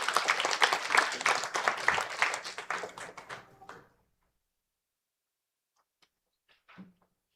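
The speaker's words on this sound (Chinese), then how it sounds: "让我们用热烈掌声来欢迎赖香林长老" A church congregation at Sunday worship applauds to welcome an elder: dense, warm applause that thins and dies away after about four seconds, leaving near silence broken by a few faint taps.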